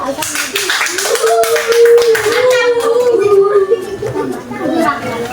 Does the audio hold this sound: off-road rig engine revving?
no